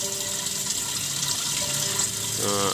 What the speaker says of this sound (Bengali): আমরা মোটামুটি আর কি তলায় পানি ধরে ততটুকু আর পানি দিয়ে রাখবো